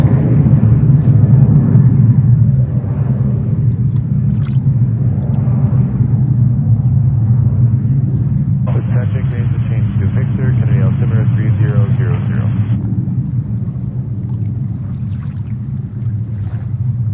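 JetBlue Airbus A320 airliner at JFK Airport in New York: a steady, low jet rumble heard from a distance, holding fairly even throughout with a faint, constant high tone above it.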